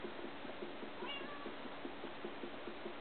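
A Minecraft cat gives a short meow over a quiet, rhythmic background of game sounds, the call brief and fairly soft.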